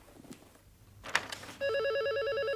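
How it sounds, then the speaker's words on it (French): A telephone starts ringing loudly with a steady electronic warble after a few faint knocks and a brief sharp clatter in a quiet indoor room. "c'est pas le téléphone que j'entends?"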